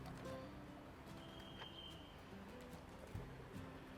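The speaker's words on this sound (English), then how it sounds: "we got a million pigeons inside this one" Faint, soft cooing from pigeons nesting inside the roofless brick ruins of Vichayen House in Lopburi, Thailand, heard distantly beneath a steady outdoor wash of ambient noise.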